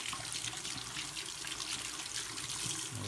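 Warm water runs steadily from a tap while a hair system is washed with shampoo at home, a continuous close splashing rush with no talk.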